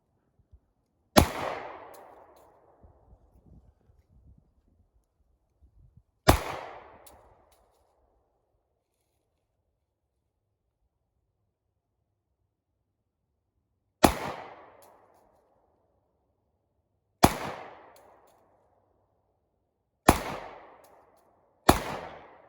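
Six single pistol shots from a Glock and a Taurus at a shooting range, each a sharp loud crack with a short decaying tail, spaced irregularly several seconds apart with quiet between.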